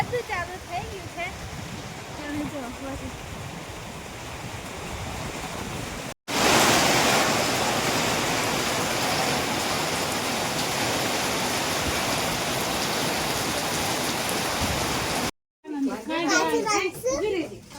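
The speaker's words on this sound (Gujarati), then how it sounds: "વરસાદ વાવાઝોડું બધું ચાલુ થઈ ગયું છે." Heavy rain pours down during a storm, a loud, dense wash that starts abruptly and holds steady. Children's voices and talk are heard before it, and again after a short break.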